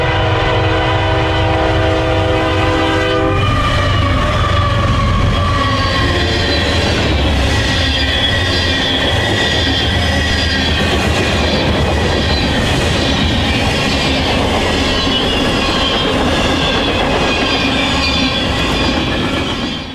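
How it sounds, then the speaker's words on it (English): Eastbound Union Pacific manifest freight train 14A, led by two GE locomotives, rumbles past close by, with a sustained horn blast at the start, then steady rolling wheel and car clatter and squeal throughout, no voices. "we caught the eastbound Manifest Train 14A, with 2 Union Pacific GE locomotives as the lead power."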